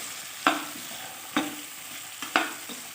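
Cauliflower and beans fry in a pan for winter-vegetable khichuri as a spoon scrapes through them three times at an unhurried pace, each stroke rising over a soft, constant sizzle.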